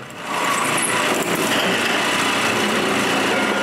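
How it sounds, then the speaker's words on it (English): Power drill boring holes into hard metal with a fresh bit, a loud continuous high-pitched whine held steadily and close, with no talk. "I check a new bit and drill the rest of the holes"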